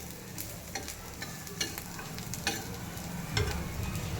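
Spices and dried coconut dry-roasting in a pan at home, a soft steady crackle with scattered light clicks of stirring, quiet and close, no talking.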